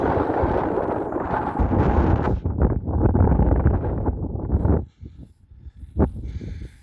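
Loud gusts of wind buffet the microphone in heavy rumbling bursts on a Wiltshire hillfort walk, then drop away abruptly to near quiet with a last short gust.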